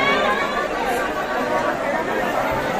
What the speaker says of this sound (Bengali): ট্রেনের দরজায় এরকম ভিড়